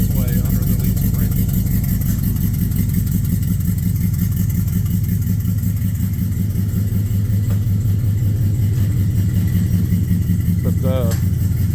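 A 1986 Suburban engine runs with a new exhaust and mufflers, giving a loud, close, steady low rumble that throbs evenly throughout with slight rev variations.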